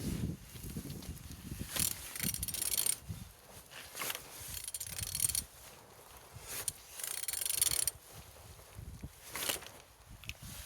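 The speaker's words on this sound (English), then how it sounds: "Engine turning good." A 27 V6 engine is turned over during an inspection, giving faint, irregular mechanical clunks and ratcheting clicks that come and go in uneven bursts. No one speaks.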